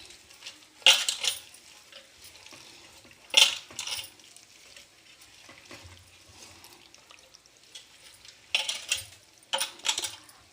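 Chicken dum biryani mixture with frying oil being stirred and mixed by hand in a pot, with a few sharp clinks of utensil against the pot over soft, intermittent wet stirring and scraping.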